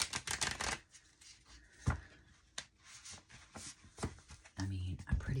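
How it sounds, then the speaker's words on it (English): A Rider-Waite tarot deck, slightly shorter than usual, is shuffled up close in a run of quick papery riffles and soft card slaps, with brief pauses between bursts. "the shuffle on this is so good"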